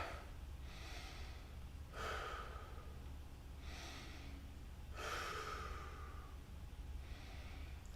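Slow, deep breaths during a guided mobility warm-up, about four drawn-out inhales and exhales spaced a couple of seconds apart, soft and close over a faint background hum.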